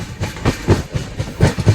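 The 19260 Kochuveli Express rolls between Bhavnagar and Ahmedabad, with a close, steady clickety-clack of wheels over rail joints and a rumbling carriage, all without any voices.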